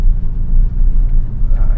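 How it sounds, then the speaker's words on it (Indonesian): Steady low exhaust rumble from a 2018 Porsche 718 Cayman sports car, idling or cruising close by with a smooth, continuous drone and no talk. "Setelah itu tetap yang paling mantep tuh adalah suara knalpotnya"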